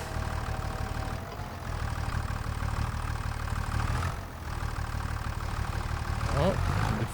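Tractor engine in Farming Simulator 25 drones steadily at a low, rough idle-like pitch throughout, with a brief dip and a rising note near the end, under a speaking voice.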